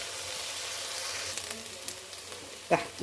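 Curry leaves sizzle in hot oil for a chicken stew, a soft continuous crackle close by with a few light stirring clinks and a sharper scrape near the end, no voices.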